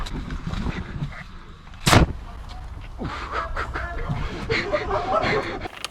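An airsoft grenade launcher fires a CO2 shell once with a sharp, loud burst near the start, set against steady outdoor background noise and faint voices.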